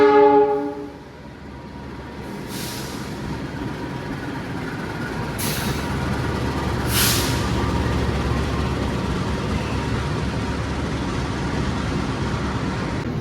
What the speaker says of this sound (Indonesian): Kereta api Pangrango masuk stasiun Bogor dari arah Sukabumi.